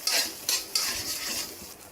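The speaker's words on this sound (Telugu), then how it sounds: "తర్వాత పెప్పర్ వేసుకొని మిక్స్ చేసుకోవాలి." Salt and pepper are stirred into an egg Hakka noodle mixture, giving three quick scraping strokes of a utensil against the pan followed by softer continuous scraping over a faint sizzle.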